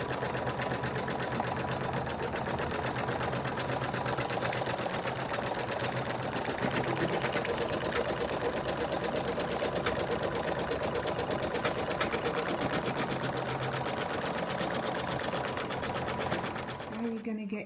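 An embroidery machine stitching an in-the-hoop phone case runs with a fast, even mechanical chatter and hum for nearly the whole stretch, then stops abruptly at the end, with a voice talking over it.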